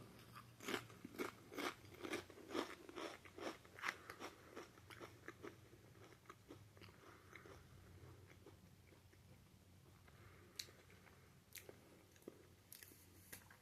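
Low-carb, keto cheesy tortilla-style chips crunched between the teeth up close, a quick burst of loud rhythmic bites followed by softer chewing and occasional crackles, with no talking.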